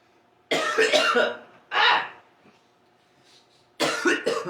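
A person coughs close to the microphone: three harsh, rough bursts, a pair of rapid coughs first, then a single one, and a final loud cluster after a quiet gap.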